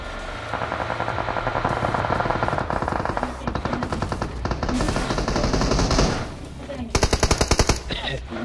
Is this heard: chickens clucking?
no